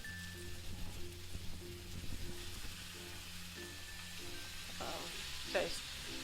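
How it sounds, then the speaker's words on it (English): Soy sauce sizzles in a pan of king prawn stir-fried noodles, a soft steady crackle under a low hum, with a brief scraping stir near the end. "Okay, so next thing is I'm going to add some soy sauce."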